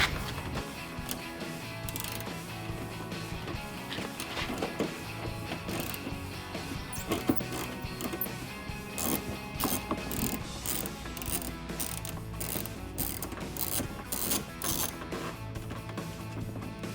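Ratchet clicking as it loosens the bottom headlight bolt on a 2016-2021 Toyota Tacoma SR5, a steady run of fast mechanical ratcheting that fills the whole stretch with scattered sharper clicks and no talking.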